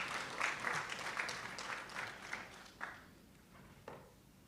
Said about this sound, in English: Ladies and gentlemen, please a round of applause for our panelists and moderator.